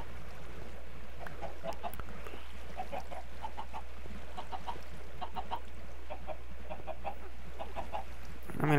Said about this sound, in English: I've accrued quite a few chickens.